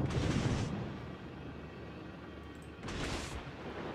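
Torpedo hits in the naval video game World of Warships, two broad rumbling explosion bursts, one at the start and another near the end, with a low quieter roar between them.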